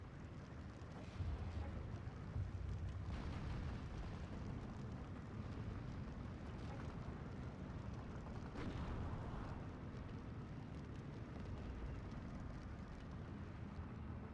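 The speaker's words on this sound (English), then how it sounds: "They're getting shelled" Artillery shelling in Steel Division II, a dense low rumbling roar of distant blasts that merge into a continuous wash, with a few sharper thuds standing out, no talk.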